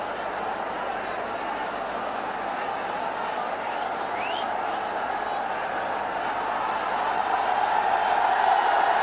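Cricket match stadium crowd, a broad steady murmur of many spectators that holds constant and swells slightly toward the end, heard from a distance.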